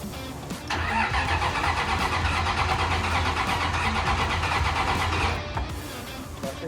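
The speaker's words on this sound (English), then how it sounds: "we were finally ready to start this beast of an engine" An attempt to start a rebuilt junkyard car engine: a starter cranks steadily for several seconds under a loud mechanical whir, then cuts off, and the engine does not clearly catch.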